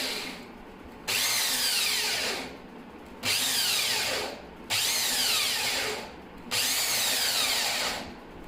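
A power drill with an attachment bores a lock hole into a wooden gaming table, running in four long bursts with short pauses between them, grinding loudly and steadily through the wood.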